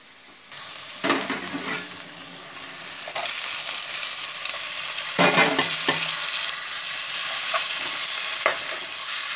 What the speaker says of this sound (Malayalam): ഇനി നമുക്ക് ഈ തക്കാളി പച്ചമുളകൊന്ന് ഉള്ളിയിലേക്ക് ഇട്ട് കൊടുക്കാം